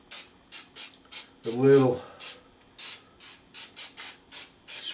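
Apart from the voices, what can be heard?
olive oil cooking spray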